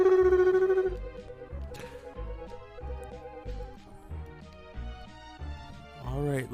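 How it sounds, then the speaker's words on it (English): In the 16-bit SNES game The Adventures of Batman and Robin, rapid blippy dialogue text sounds tick steadily over chiptune game music with a low rhythmic beat, closing with a short rising electronic sweep. "good old 16-bit games where people talk and it sounds like this"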